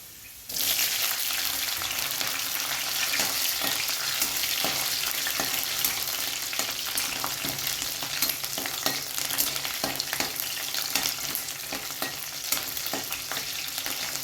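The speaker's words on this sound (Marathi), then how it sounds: "आता ह्याच्यात घालायचं आहे लसूण अशा पद्धतीने लसूण घालायचं आहे परतून घ्यायचं आहे लसूण चांगला" Garlic and chillies sautéing in hot oil for spinach dry vegetable dish, a steady continuous sizzle and crackle throughout with occasional stirring, close and fairly loud with no talking.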